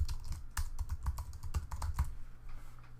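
Rapid typing on a computer keyboard, a quick irregular run of close, crisp key clicks that lasts about three seconds with no voices.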